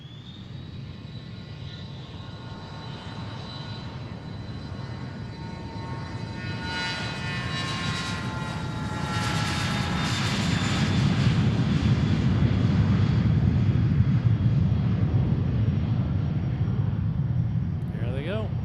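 A Cessna Citation Latitude private jet takes off, its engine whine and roar building steadily to a loud peak and staying strong through the end, with a faint voice in the background.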